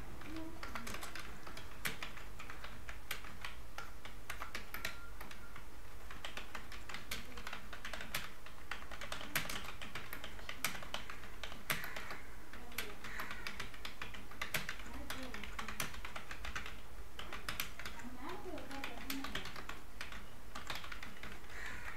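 Fingers type on a computer keyboard during Photoshop work on an invitation design, producing rapid, close, continuous clicking and tapping that runs steadily the whole time, with a faint voice at times.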